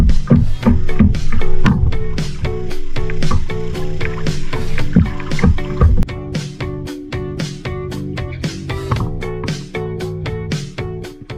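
A kayak being paddled on water gives rhythmic splashing and dripping strokes, close and loud, repeating steadily with no talking heard.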